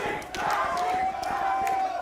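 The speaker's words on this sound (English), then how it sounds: "You hear it from the crowd." Loud arena crowd roaring and cheering at a Valorant esports playoff match, NRG vs Cloud9 in VCT Americas, a steady wall of voices with whistle-like tones, under a caster's excited commentary.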